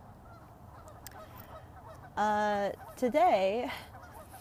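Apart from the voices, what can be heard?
geese squawking at Day Island Park, Oregon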